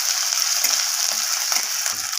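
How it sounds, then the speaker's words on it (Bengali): Green chili, grated ginger and cumin sizzling in hot oil, a loud continuous hiss with a few soft stirring scrapes, close up and alone. "আমি আদা, কাঁচা লঙ্কা, জিরেটাকে একটু নাড়াচাড়া করে ভাজা করে নেব"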